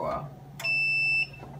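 A heat press timer sounds a steady high-pitched electronic beep for about half a second, loud and clear over low room hum.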